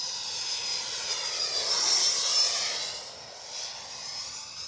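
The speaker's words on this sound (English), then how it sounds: "Such a huge airplane." A large Freewing Motion F16 V2 RC jet on an 8S battery setup flies past on its first flight, its electric ducted-fan whine loud and steady, swelling toward the middle and then easing off, with no talking.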